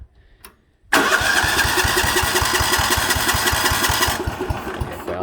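An old 1970s lawn mower's small engine catches abruptly after a brief silent moment, then settles into a loud, fast, steady chugging idle that continues with slight variation to the end.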